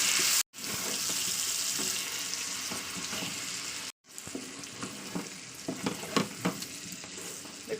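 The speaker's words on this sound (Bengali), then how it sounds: "তো এটাকে আমি ভালো করে এবার কষিয়ে নেবো, যাতে হলুদের গন্ধটা চলে যায়।" Spices with salt and turmeric frying in a pan for chicken kadai, a bright steady sizzle broken by two brief gaps, then spatula scrapes and stirring knocks over the crackle.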